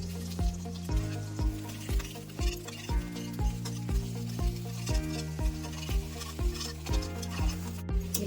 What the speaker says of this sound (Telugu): ఇలా ముక్కలుగా కట్ చేసుకున్నాక 2 నిమిషాలు ఫ్రై చేసుకోవాలండి